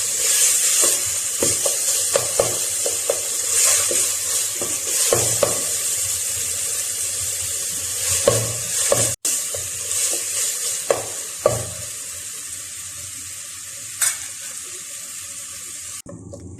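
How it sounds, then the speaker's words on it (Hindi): Mutton mince frying with garlic hisses and sizzles in a pan, while a spatula stirs and scrapes with repeated clattering knocks and one sharp clack partway through. "यहाँ कीमे को मैं हल्का सा फ्राई करूँगी"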